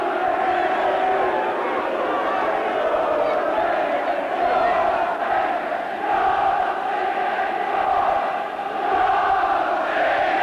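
A dense football stadium crowd at the Oxford United versus Everton League Cup quarter-final of the 1983–84 season roars and chants steadily throughout, a continuous wash of massed voices with no clear break.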